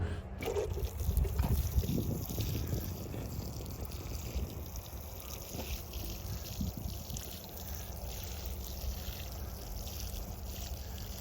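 Water from watering cans trickles and splashes onto damp garden soil around freshly planted celery, a soft continuous pour that swells early and then settles into a steady, faint stream with no talking.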